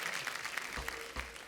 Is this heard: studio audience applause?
yes